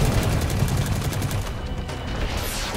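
Rapid, loud gunfire from the video game Destiny 2 crackles in dense, continuous bursts for the whole stretch, close and unbroken, with no talking.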